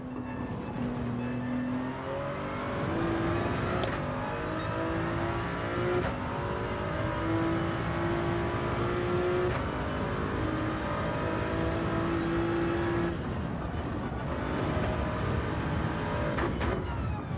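Toyota Supra race car engine in Gran Turismo 7, running on hard tires, holding a steady high drone with repeated upshifts and a rising pitch through each gear, loud and continuous.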